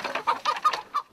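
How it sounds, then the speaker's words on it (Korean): Native Korean chickens clucking in quick, agitated bursts while being caught, about six sharp clucks in a second, close and fairly loud with no talk. "네, 토종 닭이라서 새처럼 막 날아가요."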